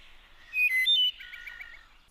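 A songbird sings a short clear whistled phrase, then a quick trill of repeated notes, close and alone against a quiet background.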